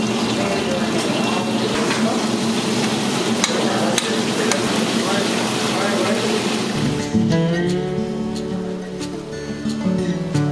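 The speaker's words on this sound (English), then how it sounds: "So he's literally scraping that dosa with the chutney and also the wet part of the hittu." Chutney dosa being scraped on a hot griddle at Chalukya Samrat in Bengaluru, a busy sizzling hiss with sharp metallic taps of the spatula, and voices and kitchen noise mixed in throughout.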